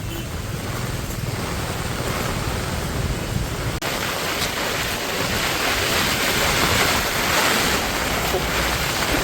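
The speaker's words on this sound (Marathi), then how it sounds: "हा खतरनाक एकदम वादळ वारा" A stormy monsoon wind roars steadily along a road during the Pandharpur Wari pilgrimage, with rain mixed in, a loud continuous rush with buffeting against the microphone.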